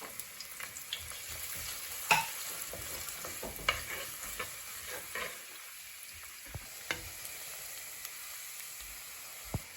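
One piece of ginger and six garlic cloves, finely chopped, frying in oil for a karimeen fish molly; a soft, steady sizzle with occasional sharper clinks of stirring, fairly quiet throughout.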